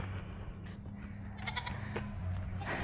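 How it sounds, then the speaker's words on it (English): Goats bleat on a farm, several calls scattered over a steady low hum, moderately close, with no talk. "The goats want to know when you're going to feed them"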